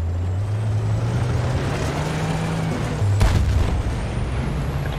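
A missile explosion in the war game Battlefield: Bad Company 2 lands as one sharp, heavy boom over a constant low tank engine rumble, loud and near, with no talk.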